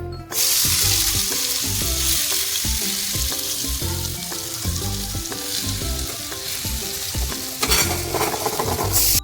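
Marinated paneer shallow-fried in a pan, loud and close, with a continuous busy sizzle and rhythmic clatter of stirring throughout. The sizzle swells briefly near the end, and there is no talking.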